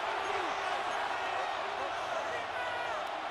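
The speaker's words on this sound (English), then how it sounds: "A big play here as the crowd noise rises." Football stadium crowd noise swells to a dense, steady roar of thousands of voices during a tight fourth-quarter Denver Broncos game, a continuous wash with no clear breaks.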